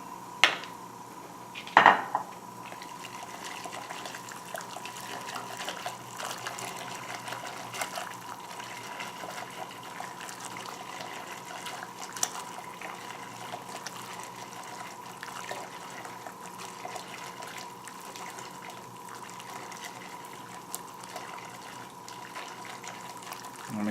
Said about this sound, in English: I'm going to add in the crushed tomato. And once again, I want to mix this crushed tomato around.